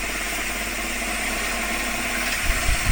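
A CNC milling machine hums steadily after being switched on, a constant mechanical drone with a few brief low thumps near the end.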